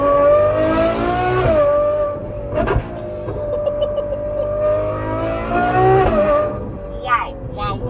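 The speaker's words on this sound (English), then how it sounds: "this is pure thoroughbred race car sound." Ferrari 812 GTS V12 with a Novitec exhaust, revved hard several times close by, rising to a loud, high-pitched scream and then dropping back, with brief speech.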